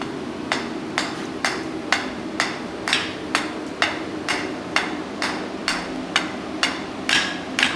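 Steady hammer blows strike a half-inch square steel bar, upsetting it on a blacksmith's anvil; about a dozen sharp, evenly spaced metallic hits ring out clearly over a low background hum.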